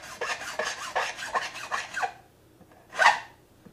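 Guitar frets are filed during a fret job: a close run of about eight quick rasping strokes, a short pause, then one more firm scrape, with no talk.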